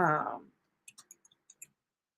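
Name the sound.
typing on a keyboard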